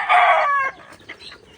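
A loud, close chicken squawk with a strained, harmonic tone, then a few softer clucks trailing off.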